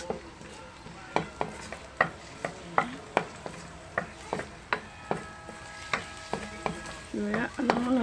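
Garlic sizzling in hot oil in a pan, stirred with a utensil that scrapes and taps at a steady rhythm, close and clear with no talking.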